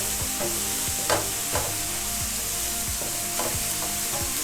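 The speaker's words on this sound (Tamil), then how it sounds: "ஆப்பிளை போட்டு கிளறுறோம்" A spatula scrapes and stirs apple pieces through vegetable rice in a hot pan. Several distinct knocks and scrapes sound over a steady sizzle, with no talking.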